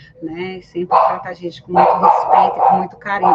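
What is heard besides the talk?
dog barking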